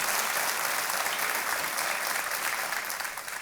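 Steady, loud applause from a studio audience on the KBC High Flyers quiz show set, dense clapping that holds throughout and eases slightly toward the end, with no talking over it.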